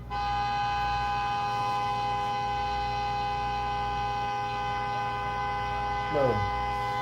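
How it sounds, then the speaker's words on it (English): At 4:20 a.m. a car horn blares in one long, unbroken honk that sounds somewhat distant and fairly faint against a low background hum. A brief warbling tone briefly rises near the end. "4:20 a.m. and there's someone honking."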